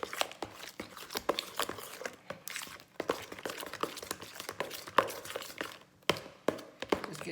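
Banana pudding being mixed with a spoon to break up lumps, with a busy run of close taps, knocks and scrapes against the bowl that ripple on steadily with short pauses.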